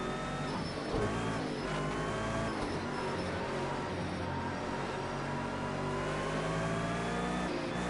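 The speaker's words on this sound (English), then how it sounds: "let's enjoy the 30-minute race here with the GT4s" GT4 race cars rev and accelerate together at Snetterton in a racing video game, a dense, continuous roar of several engines with rising and falling pitch sweeps, loud and close throughout.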